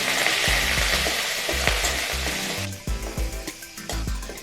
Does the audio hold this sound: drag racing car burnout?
no